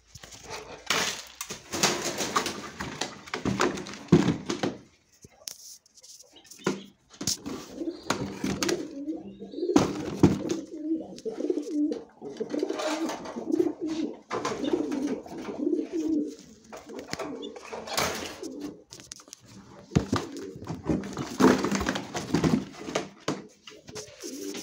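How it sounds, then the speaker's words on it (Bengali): Racing pigeons coo repeatedly at close range while being loaded into a box, with bursts of fluttering and handling noises between the calls. "কবুতরগুলো এখন আমরা বক্সে ঢুকাই দিব ইনশাআল্লাহ।"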